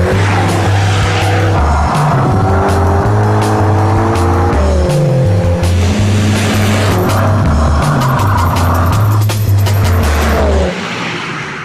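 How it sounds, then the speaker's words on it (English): A Mini John Cooper Works GP hot hatch is driven hard around a track, its engine loud and close, revving through rising gear changes with brief tire squeals and a constant roar. "the Stig is in a mini John Cooper Works GP, one of the most hardcore hot hatches you can buy"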